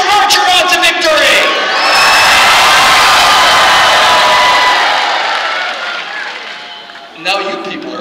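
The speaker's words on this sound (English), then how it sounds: "how are you going to cheer Archer on to victory?" Spectators at a jousting show at the PNE fair cheer for a knight with a loud burst of shouting, whooping and applause that swells and then fades. An announcer's amplified voice is heard before the cheering and again at the end.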